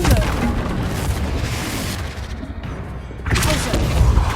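Confringo fire-blast spells burst in Hogwarts Legacy during the Haunted Hogsmeade quest: loud, dense booming explosions with rumbling debris, a brief lull midway, then another heavy blast.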